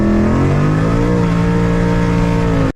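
A 900-horsepower Ford Mustang accelerates hard at night, its engine note loud and close, rising steadily in pitch through a sustained pull with no talk, then cutting off abruptly at the end.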